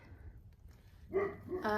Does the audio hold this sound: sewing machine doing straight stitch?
no